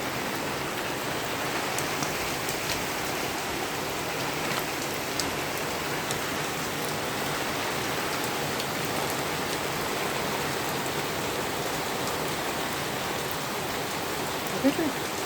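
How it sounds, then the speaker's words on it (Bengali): Heavy rain pours down steadily onto ground where water has pooled, a dense, continuous hiss of drops that stays loud and unbroken throughout. "অসম্ভব জোরে, অসম্ভব জোরে বৃষ্টি হচ্ছে।"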